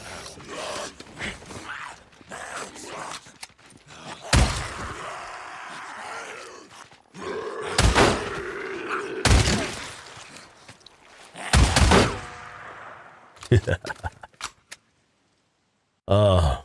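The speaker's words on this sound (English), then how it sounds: "Fucking love the auto shotgun, man." An auto shotgun fires in the video game Days Gone: four loud, separate blasts spaced a few seconds apart, with someone talking and other game noises in between.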